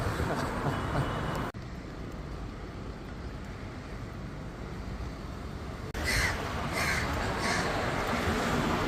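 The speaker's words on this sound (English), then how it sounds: "I think these towns or cities in Malaysia have got the most crows I've ever seen in my life." Crows caw in a Malaysian town, a few harsh calls near the end over steady traffic-like background noise, with a sudden shift in the ambience partway through.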